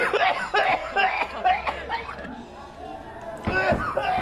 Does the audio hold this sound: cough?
yes